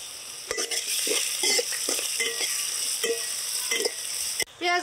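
Whole cumin and garam masala fry in hot tempering oil, a continuous crackling sizzle broken up by clinks of a spoon and scraping stirs against a pot.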